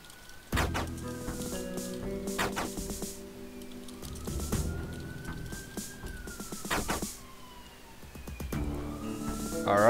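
A police car siren wails outside a city window, rising and falling tones over a background of car traffic and game music, moderately loud and sustained throughout.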